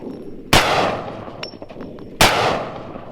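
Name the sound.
machine gun shots fired at a target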